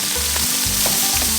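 Food sizzling hard in a hot pan, a dense, loud, continuous crackle and hiss with small stirring shifts and no talking.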